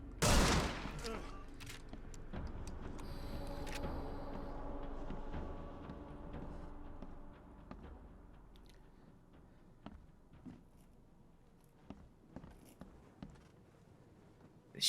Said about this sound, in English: This shotgun is savage. Absolutely savage.